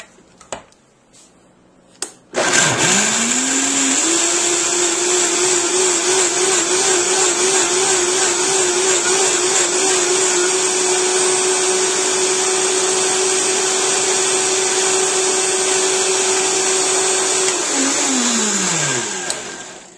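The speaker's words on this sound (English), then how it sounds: "now we're going to blend it" Kitchen blender whirring steadily through a batch of vegan ranch salad dressing, a loud close motor drone starting abruptly, holding for about fifteen seconds, then winding down at the end.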